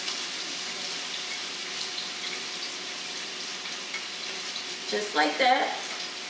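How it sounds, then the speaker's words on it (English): Onions and mushrooms sauteing in olive oil in a pan give a steady, soft sizzle throughout, close and even, with a brief louder burst of clatter and sizzle near the end and a voice speaking briefly. "So I'm going to go ahead and add in my onions and my mushrooms."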